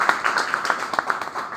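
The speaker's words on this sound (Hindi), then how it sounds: "तो एक बार मैं तालियां चाहूँगा।" An audience claps steadily through the whole stretch at a Hindi-language talk, a dense, even patter of many hands at moderate loudness with no voices on top.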